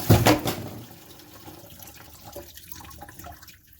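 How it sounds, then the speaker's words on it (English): Tap water runs into a sink with a clogged drain, a splashy burst at first that settles into a softer, steady trickle and gurgle, fairly close, with no talk. "Let's try run the water again."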